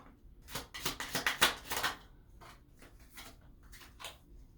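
Tarot cards are riffled and shuffled in a quick burst of crisp flutters, then quieter scattered card slides and taps follow.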